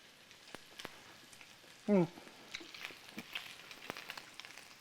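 Bacon frying in a hot pan while making quiche Lorraine, a steady faint sizzle and crackle with scattered pops and one brief louder burst, no talking.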